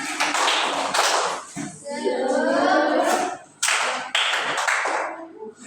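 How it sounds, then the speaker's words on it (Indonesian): A classroom of students standing and doing a rhythmic spirit clap together, sharp patterned claps in bursts with a short pause of chanting voices between them. "Tepuk semangat"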